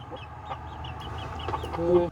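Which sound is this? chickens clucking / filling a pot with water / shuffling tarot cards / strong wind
chickens clucking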